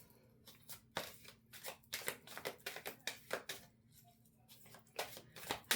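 A tarot deck being shuffled by hand, a quick run of soft papery riffles and taps in bursts, close and fairly quiet, with no one speaking.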